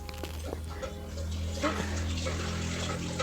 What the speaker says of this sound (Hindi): अब मैं धो लूँगी हाथ।